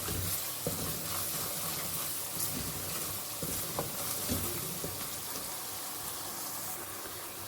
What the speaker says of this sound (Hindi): उनको अच्छी तरह इसमें फ्राई कर लेती, भून लेती मसालों को